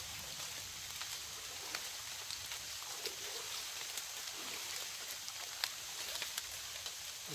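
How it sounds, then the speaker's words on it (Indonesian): Rain falls through a Borneo forest as a steady, soft hiss with scattered faint drop ticks, continuous and fairly quiet, without voices. "Hujannya sudah mulai reda"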